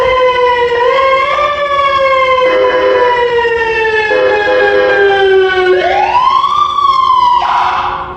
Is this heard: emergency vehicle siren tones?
yes